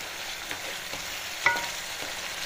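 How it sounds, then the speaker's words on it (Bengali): Spices frying and being stirred for a Bangladeshi duck curry bhuna, a steady close sizzle with a few soft scraping strokes of a spoon against the pan. "মোটামুটি 5 মিনিট আরও লাগবে মশলা কষাতে"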